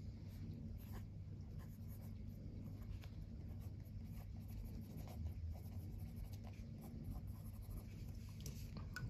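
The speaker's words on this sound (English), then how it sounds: "let's do this writing sample and see how it" A $3 variety store fountain pen writing a sample on notebook paper, a faint, close, continuous scratching of the nib over a steady low hum, with no talking.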